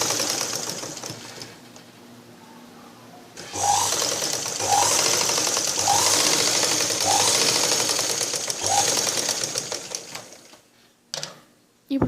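A sewing machine stitches a blouse in a rapid, steady mechanical chatter for several seconds, stopping and restarting with brief pauses and a few clicks of fabric handling.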